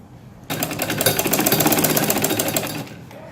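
A sewing machine stitches a poncha (mohri) seam along one side, a fast, steady mechanical chatter starting abruptly, running loud and close for about two seconds, then stopping, with no talking.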